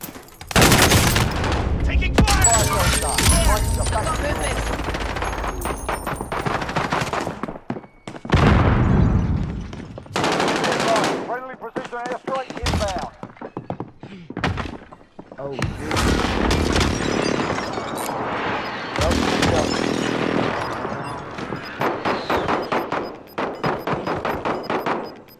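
Heavy automatic gunfire in Call of Duty: Modern Warfare, loud dense bursts coming in waves with brief gaps, and a few booming impacts mixed in throughout.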